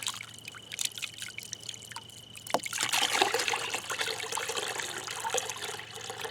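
Water is agitated by hand to wash ore sludge, giving faint trickling and dribbling that grows busier and splashier after a soft knock partway through.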